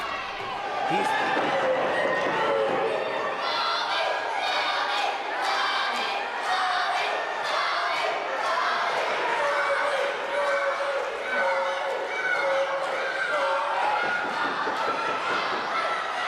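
Wrestling crowd at a live pro wrestling show roaring continuously and loudly throughout, with scattered shouts and cheers, a commentator's voice running under the noise.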